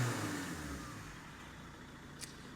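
A Ford Kuga engine revs freely after a fault repair, a close, moderately loud engine note that eases down and settles to a steady hum.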